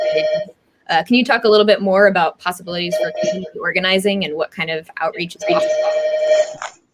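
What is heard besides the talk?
telephone ringing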